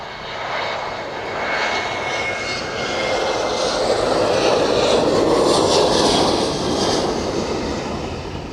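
An airliner landing at Manchester Airport roars in a steady, broad jet rumble that swells slightly toward the middle and holds loud throughout, with no voices over it.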